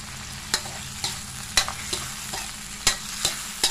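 Meatballs stir-fried in a wok for Thai basil pad kra pao, with oyster sauce just added: a steady close sizzle broken by repeated sharp scrapes and clanks of the spatula, several distinct strokes over a few seconds.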